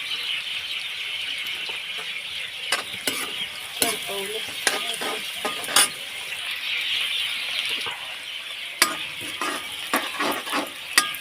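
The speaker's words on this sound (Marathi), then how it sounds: "कांदा टाकून घेते मी लसूण पेटले आणि थोडी मिरची" Onion, garlic and chili frying in a pan give a steady, loud sizzle, broken by repeated scraping and clinking from stirring. No one talks.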